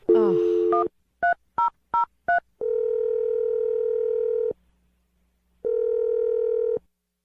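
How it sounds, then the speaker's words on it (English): A landline handset plays a quick burst of touch-tone dialing, four crisp separate beeps, then two long steady ringback tones with a silent gap between them, clean and close. "let's dial the phone number"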